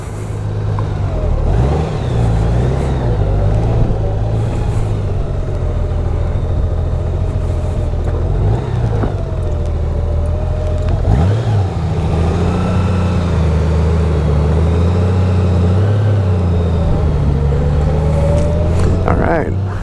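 Engine of a 2018 Honda Goldwing motorcycle on a test ride, a steady loud low drone that rises and falls with throttle changes throughout, with a brief swell near the middle.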